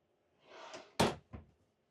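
Drawers in a 2025 Brinkley Model I 275 RV pulled open: a soft sliding rumble, then a sharp wooden knock and a second shorter thud, close and fairly quiet.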